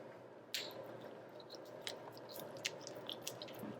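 An uncapping knife scrapes wax cappings off a honey frame, giving soft wet squishing and sticky crackles with a few sharper clicks, close and quiet.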